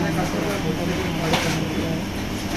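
Inside a moving train out of Sealdah, a loud, steady rumble fills the whole stretch, with voices mixed into the constant rolling noise.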